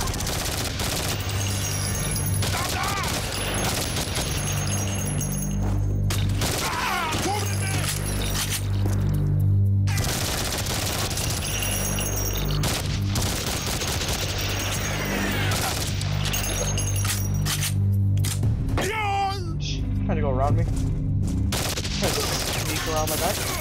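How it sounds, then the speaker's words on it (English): Dense gunfire from the shooter game Code of Honor 2 in a factory level, bursts of rapid shots rattling almost nonstop under game music and effects, with loud repeated volleys throughout. "Shots to take down a single guy."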